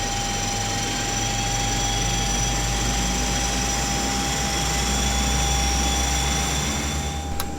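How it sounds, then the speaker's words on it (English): Right engine of a Carenado Brasilia turboprop spooling up during start in Prepar3D V4, a steady loud whine with a high tone and low rumble, holding level throughout. "Good engine start on the right"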